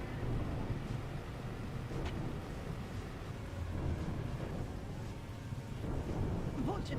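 A thunderstorm rumbles continuously with steady rain and low, rolling thunder filling the background, a few brief crackles standing out, dense and unbroken throughout.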